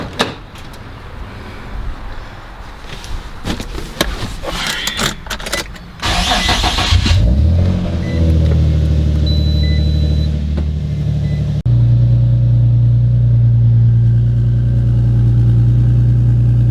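A wrecked widebody Nissan G35 cranks with clicks and rattles, catches, and settles into a loud, steady idle with a deep rumble that runs on alone after the start.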